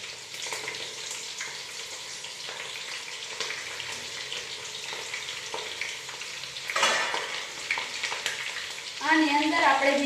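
Chopped green chillies and curry leaves go into hot oil with cumin seeds, giving a steady close sizzle with stirring scrapes. A brief louder crackle bursts up, and a voice speaks over the frying at the end.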